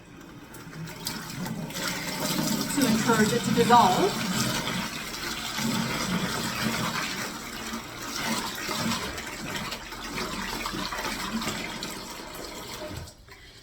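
Warm water pours and splashes steadily into a bucket of bentonite clay for several seconds while a person speaks over it, the flow tapering off at the end.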